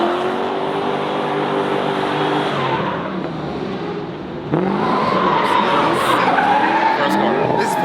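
A drift car running anti-lag at a UAE drift event, with loud sustained engine revving and screeching, skidding tires that rise and fall close by, and voices speaking over the noise.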